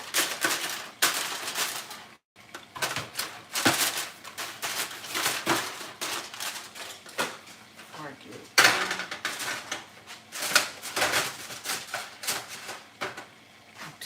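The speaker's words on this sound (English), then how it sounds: "I kind of line my pan with foil here." Aluminium foil being crinkled and pressed into a baking pan for chicken, a run of close, sharp rustling crackles in bursts with brief pauses.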